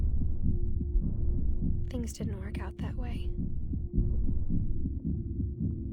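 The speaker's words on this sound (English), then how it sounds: "The heartbeat is beating so fast in this controller." Heartbeat from the video game What Remains of Edith Finch, a steady low throbbing pulse running throughout beneath a person speaking, with a low hum underneath.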